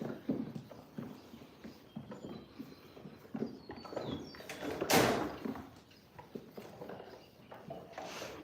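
Goats on a farm walk out of their pen, faint scattered hoof clatter and light knocks on the ground, with one louder bump near the middle and a few distant bird calls in the background.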